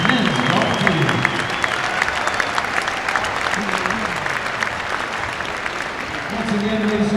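Sustained crowd applause in a basketball arena honoring the 2015 MIAA champion Hope College women's and men's golf team, loud and steady throughout, with cheering and a PA voice underneath.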